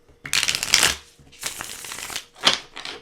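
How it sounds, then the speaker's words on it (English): Tarot cards are shuffled by hand in several quick riffling bursts, crisp and close, with brief pauses between them and no talking. "Gonna do a couple shuffles"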